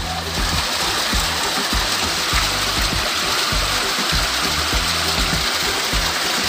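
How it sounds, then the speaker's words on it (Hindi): A small waterfall at a sluice gate in the Chakrashila forest, Kokrajhar, pours steadily, its dense, continuous rush of water loud and close, with low rumbling thumps underneath throughout. "आवाज़ आ रहा है वाटरफॉल का?"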